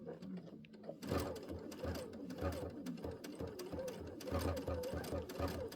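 A sewing machine runs a few stitches in place while quilting, with a quiet start and then a continuous rapid mechanical chatter of the needle, close and low in level.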